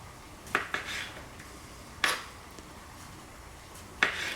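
A knife cutting vegetables in half: three crisp, separate clicks of the blade striking the cutting board, about two seconds apart, against a quiet background.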